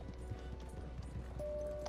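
Horse hooves in the video game Red Dead Redemption 2 clip-clop in a steady, quick rhythm at moderate distance over a low background hum, with faint game ambience.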